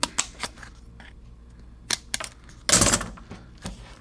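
A plastic part is snapped and cut from the sprue of a Kelvin economy solar racer kit with a plastic body, heard as sharp isolated clicks and snips, then a brief louder crunching crackle, close up with no talking.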